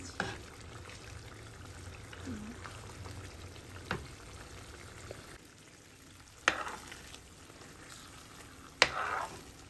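Shrimp curry (chingri kosha) frying in a pan over a gas flame, with a steady low sizzle and a few sharp clinks of a spatula or spoon against the pan, no talking.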